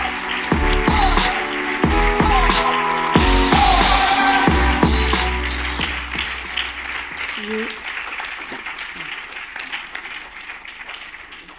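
A film festival award ceremony crowd claps loudly for a prize winner, with sustained applause and tonal sounds mixed in at first, then thinning and fading into quieter room noise.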